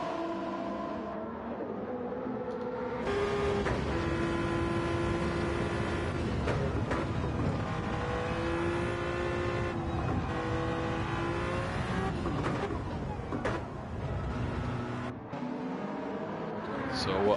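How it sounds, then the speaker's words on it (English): The Toyota TS050 hybrid race car in Gran Turismo 7 during an online league race, its engine holding a loud, sustained high-pitched howl with shifting revs and brief gear changes, other cars audible beneath, under continuous race commentary. "the TS50 is just a beautiful car. Just listen to that engine."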